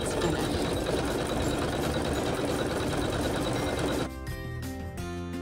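An embroidery machine sews satin stitch on a quilt seam with a fast, dense, steady buzzing hum that shifts abruptly near the end into a lighter, more rhythmic pattern.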